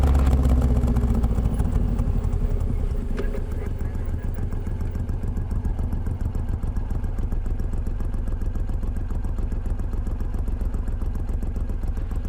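A Suzuki Boulevard M109R motorcycle cruises along, its big V-twin engine throbbing in a loud, steady low rumble with wind buffeting, heard close from the rider's position.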